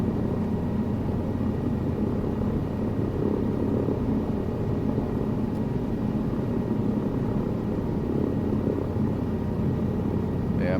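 A helicopter in Microsoft Flight Simulator 2024, flying over Saudi Arabia, hums with a steady rotor and engine drone, low and continuous at moderate volume without voices.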